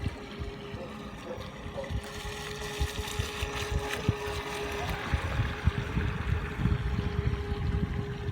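A small carp-fishing bait boat driven by a Falcon 3542 motor runs on open water, a faint steady motor whine under splashing water and wind noise.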